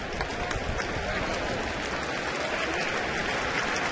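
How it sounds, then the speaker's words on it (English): A Washington home baseball crowd, hosting Kansas City in June 2010, applauds a foul ball on a two-strike count, a steady dense wash of clapping and crowd noise that holds at the same level throughout. "even a foul ball that creates strike 2 gets applause"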